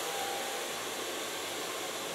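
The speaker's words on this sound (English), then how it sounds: "So far blow drying." A hair dryer blows steadily on hair while it is styled into a stand-out crowd hairstyle, giving a continuous, even, close rushing hiss with no pauses or talk.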